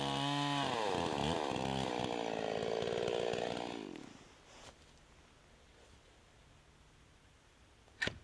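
A chainsaw cuts a felling notch shaped for a hydraulic wedge, its engine loud and close for about four seconds before winding down, leaving quiet outdoor ambience and a single sharp click near the end.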